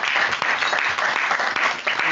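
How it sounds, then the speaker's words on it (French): A room full of people clapping steadily, loud and close, a dense wash of applause with no talking over it. "Je pense qu'on peut l'applaudir."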